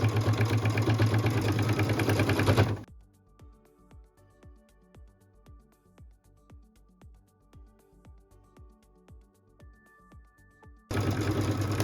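A sewing machine runs loud and steady as it stitches a quilted, pieced stocking closed, stopping for a long quiet gap with faint clicks before starting up again at the end.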